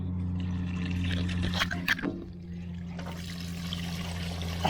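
Water pouring and trickling out of an excavator abandoned in the woods for 30 years, a steady low splashing stream with a steady hum underneath, close by, and a brief disturbance midway.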